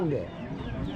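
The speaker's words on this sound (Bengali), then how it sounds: "দেশি মোরগ বিক্রি করা হচ্ছে" Chickens cluck close by amid a busy crowd at a village market in Bangladesh where local roosters are sold, with people talking over the birds throughout.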